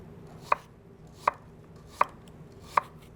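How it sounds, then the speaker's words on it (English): Four sharp, evenly spaced knife chops through apple slices onto a cutting board, close and crisp with quiet gaps between, while a traditional sweet pie filling is prepared. "And then we just take these and we cut them into"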